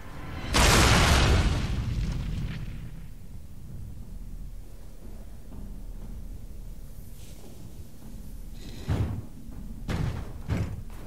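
An anvil being destroyed in Dragon Age: Origins, a loud booming crash near the start that rumbles and fades, followed later by a few duller thuds.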